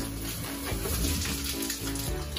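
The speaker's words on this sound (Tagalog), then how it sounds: "Running water lang." Tap water runs in a steady, full rush over market groceries and their plastic packaging as they are washed, continuous and close, with no talking.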